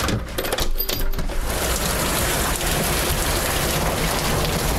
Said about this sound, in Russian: Дождь такой, что вообще космар.